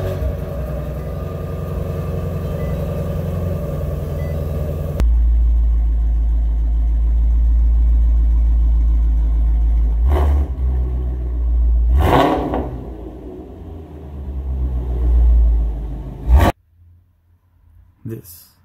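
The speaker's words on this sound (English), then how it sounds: "Push the button and listen to some of the visceral sounds that the engineers made for the nickname Voodoo Engine." A 2017 Avalanche Gray car with a 526-horsepower Voodoo engine fires up with a loud crank, settles into a deep idle, then gives several sharp throttle blips. A final rev is cut off abruptly. People talk nearby beforehand.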